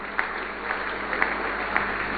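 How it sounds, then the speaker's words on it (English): An audience gives a round of applause for an honoree at a televised Ghanaian event, a steady wash of clapping for about two seconds with a few sharper claps standing out. "And so let us congratulate and give a round of applause to Mr."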